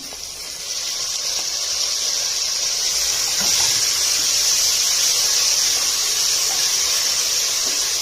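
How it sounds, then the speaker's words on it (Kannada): Tomatoes frying in a pan for kuska rice with onions and cashews, a steady bright sizzling hiss that rises as they hit the oil and holds constant throughout. "ಟೊಮೆಟೊ ಹಾಕ್ಬಿಟ್ಟು ಚೆನ್ನಾಗಿ ಫ್ರೈ ಮಾಡ್ತೀನಿ"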